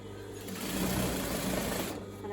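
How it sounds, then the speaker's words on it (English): A sewing machine runs steadily for a couple of seconds, stitching elastic into trousers at a loud, even, close-up whir. "And I'm aiming to stitch in the centre of the overlock stitch."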